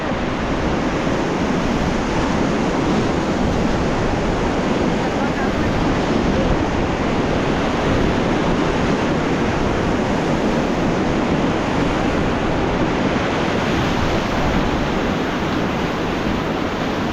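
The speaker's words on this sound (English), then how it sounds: "Big rapids." River rapids on the Beas River near Kullu Manali roar loudly and continuously during rafting, with dense rushing water and wind buffeting the microphone, at a steady high level throughout.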